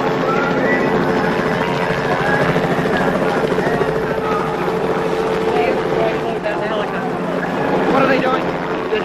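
A helicopter over the 1969 Woodstock festival crowd dropping flowers and dry clothes, its rotor drone steady and loud throughout, with voices talking over it.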